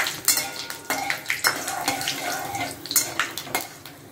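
Whole spices (dried red chilli, cumin, cardamom, cinnamon, cloves and bay leaf) fry in mustard oil in a pan, a soft sizzle punctuated by repeated metallic clinks and scrapes of utensil against pan.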